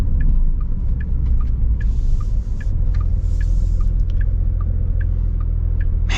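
A 2025 Porsche 911's flat-six hums with a steady low rumble from inside the cabin, joined by a regular ticking like an indicator, with no one speaking.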